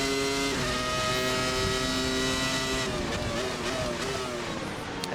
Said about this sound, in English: VRC have reworked the sounds on this car